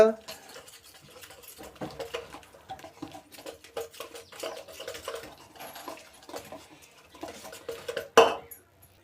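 A spoon stirs thick paneer tikka batter with a splash of vinegar in a bowl, a busy patter of wet scraping and clinking throughout, ending in a sharp knock of the spoon against the rim.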